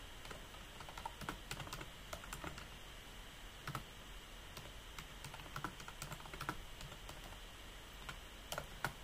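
Quiet, rapid typing on a computer keyboard, irregular key clicks with occasional louder strokes, close by with no talk.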